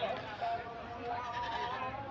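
Goats bleat repeatedly at a livestock market, a wavering close cry running almost without pause over busy crowd murmur and voices.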